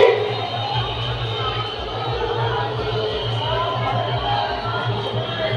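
Large crowd of followers gathered at Bhima Koregaon for Shaurya Din, a dense steady murmur of many voices with a low drone beneath, continuous and fairly loud throughout.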